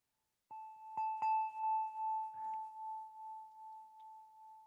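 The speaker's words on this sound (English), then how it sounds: "even though I forgot to ring the church bell at the start," A church bell sounds in a quiet service, struck three times in quick succession before a single clear tone rings on and slowly fades, with a faint voice murmuring partway through.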